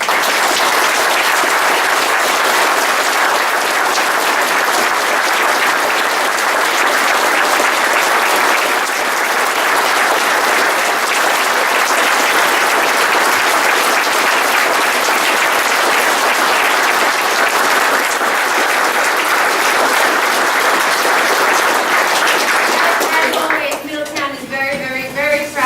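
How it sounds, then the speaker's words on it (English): Sustained, loud round of applause from a township committee meeting audience, dense steady clapping that fills the room for about twenty-three seconds before thinning out at the end. "So just a round of applause for these guys."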